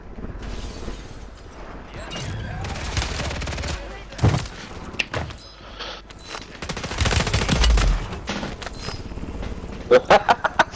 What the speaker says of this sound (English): Alfred, they're shooting me.